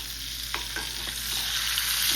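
Steak sizzles steadily in a hot frying pan, a dense continuous hiss with a few soft scrapes of stirring or turning, close and alone without talk.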